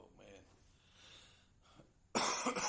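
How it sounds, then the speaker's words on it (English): A single loud, harsh cough bursts out near the end after a stretch of quiet breathing and faint sounds. "Excuse me for coughing."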